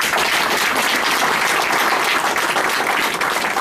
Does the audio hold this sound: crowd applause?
yes